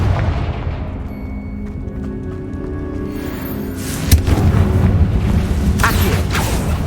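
A Confringo fire spell explodes in Hogwarts Legacy, a sudden boom erupting about two-thirds through over a rumbling, creaking game soundscape, followed by a sustained crackling roar.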